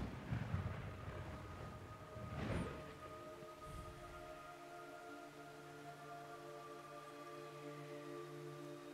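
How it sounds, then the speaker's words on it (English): Rain in the video game Metal Gear Solid 3: Snake Eater makes a steady soft hiss under long held musical tones, with a brief low rumble early on. "It's raining blood."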